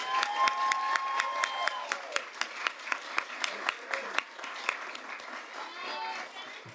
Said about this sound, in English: Let's give our students another round of applause for an awesome job.